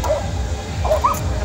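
A dog yips and whimpers a few times amid a steady outdoor crowd hum on a car-free city avenue, the short high cries fairly close and brief rather than full barks.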